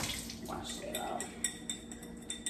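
A kitchen tap runs steadily over salmon being rinsed for fried salmon, with faint clinks of dishes and a voice speaking over the flowing water.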